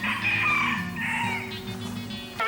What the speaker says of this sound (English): you can enjoy the company of strutting peacocks